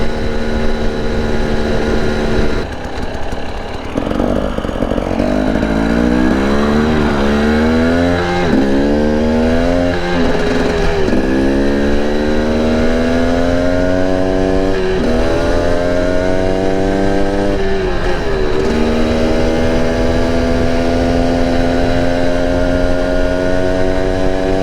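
A stock 2021 Husqvarna TE 300i two-stroke dirt bike engine revs loud and close, rising and falling in repeated blips and sustained pulls, with no talk over it.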